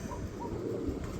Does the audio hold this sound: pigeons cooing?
yes